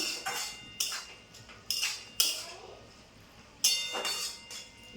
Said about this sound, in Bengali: এখন একবার এই যে মাঝে নেড়ে দিলাম